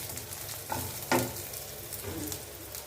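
Vegetables sautéing in a pan give a continuous, close sizzle, broken by a few scraping stirs of a spatula, with no voices.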